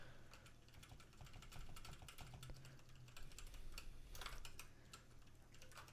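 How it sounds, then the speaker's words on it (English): Rapid, uneven clicks of a computer keyboard come in a steady stream of keystrokes, faint and close, during coding work with no voices. "So I'm typing this all out like an absolute scrub."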